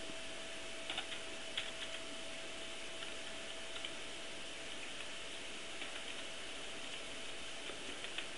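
Faint, scattered clicks of typing on a computer keyboard sit over a steady electrical hum, with keystrokes coming in small irregular clusters.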